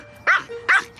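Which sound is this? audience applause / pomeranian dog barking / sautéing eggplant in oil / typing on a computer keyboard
pomeranian dog barking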